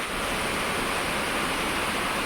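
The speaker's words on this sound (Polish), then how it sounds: "No zobaczcie kochani, no ile leje, pół godziny" Steady, dense hiss of a heavy cloudburst pouring down continuously onto flooded fields, even and unbroken throughout with no voices.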